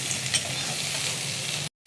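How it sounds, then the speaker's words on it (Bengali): Chopped vegetables fry in a covered pan with a steady, close sizzle and hiss that cuts off abruptly near the end, then resumes briefly. "ঢাকা দিয়ে দিয়ে আমি কিন্তু ভাজছি, তাতে সবজিটা অর্ধেক সিদ্ধও হয়ে যাচ্ছে আর ভাজাও হয়ে যাচ্ছে"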